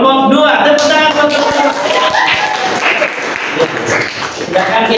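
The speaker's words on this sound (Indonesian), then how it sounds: "Kelompok 2, tepuk tangan." Students clapping in a classroom for a presentation group, a loud burst of applause that sits under and alongside a speaking voice, tapering slightly but staying dense throughout.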